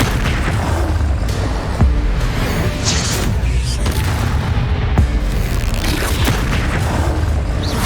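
A Bombarda blasting spell in Hogwarts Legacy sets off repeated booming explosions, with heavy low rumbles and sharp impacts around two and five seconds amid continuous loud battle noise.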